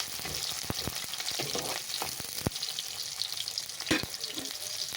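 Ingredients frying in hot oil give a steady close sizzle while a utensil stirs the pan, with sharp scraping and tapping knocks scattered irregularly through the sizzle.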